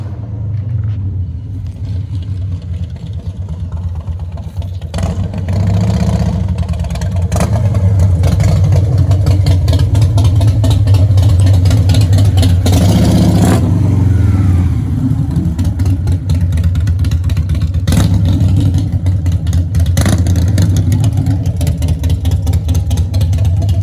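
An S&S 113-inch chopper motorcycle engine, freshly rebuilt, runs loud and close with a deep rumbling idle. It revs up and down several times in sharp bursts over a steady throbbing exhaust.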